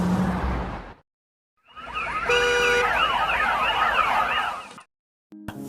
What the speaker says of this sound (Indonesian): Jason menyadap alarm mobil yang terparkir untuk mengalih perhatian para penjaga